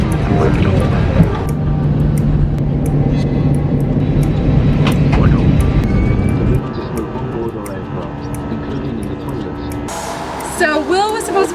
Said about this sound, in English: We're on plane number 2 to get back to Zurich.